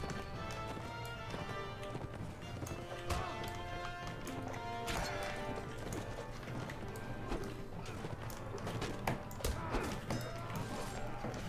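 Horses gallop through a Mount & Blade video game battle. Hoof beats and clatter roll on steadily, mixed with clashes and a tonal musical backdrop.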